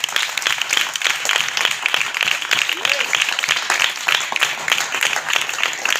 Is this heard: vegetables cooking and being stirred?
no